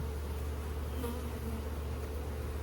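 Agitated honey bees drone in a dense, continuous buzz at an opened, crowded hive, faint and steady with no voices.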